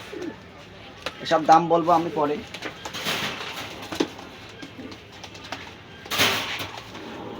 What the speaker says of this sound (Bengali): এইটা টেডির নর, একেবারে ক্রিম চোখের কবুতর